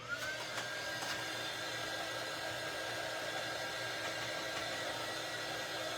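A handheld dryer, like a hair dryer, blows steadily on an acrylic craft piece for fall treats, a constant close airy whoosh with a faint whine running unbroken throughout, with no voices.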